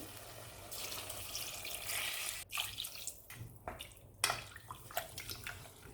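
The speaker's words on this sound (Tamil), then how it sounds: "முதல்ல கொஞ்சமாக தண்ணி சேர்த்துட்டு கறியை வேக வச்சுக்கலாம்" Water is poured in to cook native country chicken for a Chettinad garlic pepper soup. The pouring is quiet and splashy, with small drips and gurgles over several seconds.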